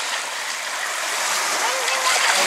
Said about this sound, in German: Macht man auf, Meeresrauschen.